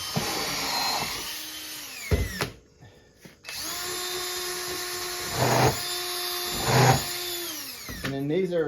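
A power drill drives 2.5 inch screws into composite decking boards, two long whining runs with rising bursts near the end, loud and close, with a short pause between them.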